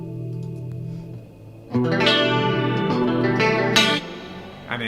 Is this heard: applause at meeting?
no